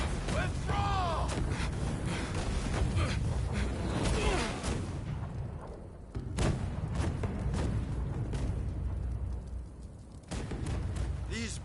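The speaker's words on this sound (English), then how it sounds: "These British cannons pack quite a punch, don't they, Saigo?" British cannons fire a bombardment in the video game Rise of the Ronin, booming repeatedly in heavy, irregular thuds under a dense wash of battle noise and shouting voices, steady and moderately loud.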